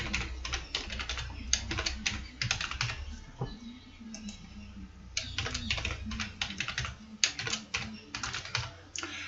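A password being typed on a computer keyboard, with quick close bursts of key clicks in uneven runs and a short pause midway.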